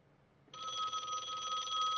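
An old telephone bell starts ringing abruptly after a quiet moment, a continuous bright metallic trill that holds steady and fairly loud to the end.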